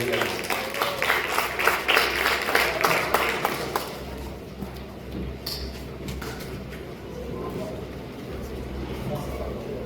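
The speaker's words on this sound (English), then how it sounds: "Make it welcome with a round of applause, ladies and gentlemen" Audience applause at the Lay Magistrate Association of Jamaica essay competition award ceremony, a burst of clapping for the first few seconds that fades into low room noise with a hum underneath.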